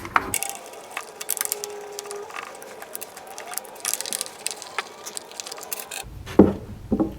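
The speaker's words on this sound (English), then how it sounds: "we're going to go ahead and pull out these 3 screws. And it's just a standard Phillips" Standard Phillips screws are backed out of a soldering station with a screwdriver, giving irregular close creaks, ticks and gritty scraping, with a couple of sharper clicks near the end.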